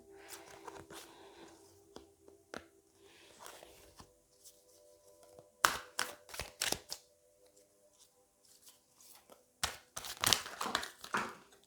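Tarot cards are shuffled and drawn from a deck, with quiet slides at first and then a run of sharp, close riffling snaps and slaps in quick bursts, and no voice over them.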